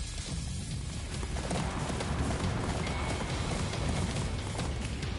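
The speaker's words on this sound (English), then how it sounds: "Ride the horse." Rapid hoofbeats of a galloping horse in the video game Attack on Titan 2 pound steadily and close by, mixed with game sound effects and background noise.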